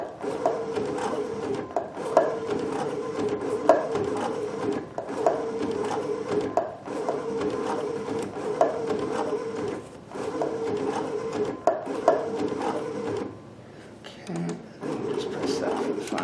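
A Baby Lock Sashiko sewing machine stitching on a fancy stitch setting, a steady mechanical whirring hum with a rhythmic pulse that runs almost continuously, pausing briefly near the end before starting again.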